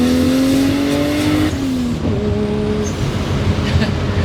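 A Mitsubishi Starion with a swapped 1JZ engine accelerates hard through first and second gear, its smooth engine note climbing steadily, dropping at a gear change, then rising again, loud and close throughout.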